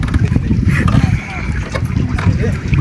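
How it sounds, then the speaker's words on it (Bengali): A fishing trawler hauling a net passes close by on a river during hilsa fishing, its engine a steady low rumble mixed with wind buffeting and water noise, with people talking over it throughout. "দেখেন আমাদের পাশ দিয়ে একটা ট্রলার জাল টেনে যাইতেছে"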